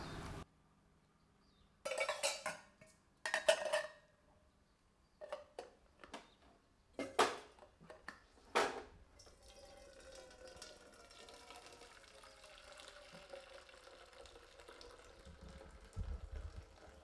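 Water being drained off cooked rice from a pot: several short splashy pours and spills, then a long quiet steady trickle.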